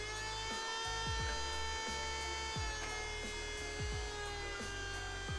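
An Acer Power FV desktop computer powering up, a steady close electrical hum and whine with faint fan noise and a few soft clicks, no speech.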